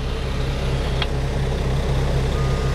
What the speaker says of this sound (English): dump box going up, gonna dump the gravel out